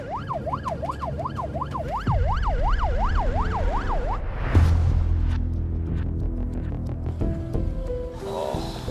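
Ambulance siren wails in a steady rising-and-falling pattern, then shifts tone, over engine rumble and road noise as the vehicle drives.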